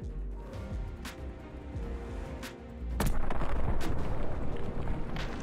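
A grenade launcher fires on the Tuscan map in Call of Duty Vanguard amid continuous rumbling battle noise, with a sharp, loud report landing partway through and distant shots scattered around it.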